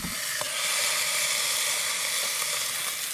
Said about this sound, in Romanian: uitați ce bine arată aici în oală, uitați cum sfârâie